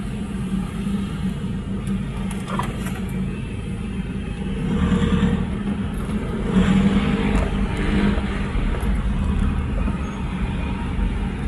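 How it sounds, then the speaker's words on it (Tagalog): Steady road traffic rumble heard from inside a car in traffic on the way to Ortigas, a continuous low engine and tyre drone that swells slightly midway, with no talk. "Ah, dito na ang traffic."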